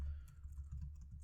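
Typing on a computer keyboard while coding, heard as a short run of soft, quiet key clicks alone, with no talking.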